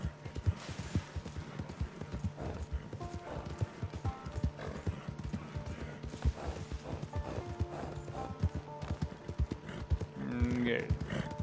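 Horse hooves clip-clop steadily and rhythmically in Red Dead Redemption 2 Online, with a few soft whinnies and ambient game sounds layered around the close, even hoofbeats.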